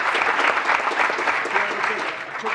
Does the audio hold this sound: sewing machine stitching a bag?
no